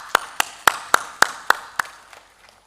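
A handful of sharp, evenly spaced claps from an audience at a state awards event, about eight distinct hits that fade toward the end, sparse rather than a full ovation.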